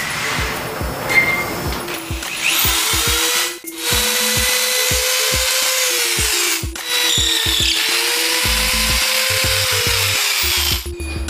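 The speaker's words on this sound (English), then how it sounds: "I like to use a quarter inch drill bit to start the pilot holes." A power drill with a quarter-inch bit bores pilot holes into a Harley bagger motorcycle frame neck, loud whining bursts starting and stopping in repeated close-up runs with no talking.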